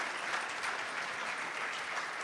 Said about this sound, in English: Let's give one last round of applause for everybody who showed up tonight.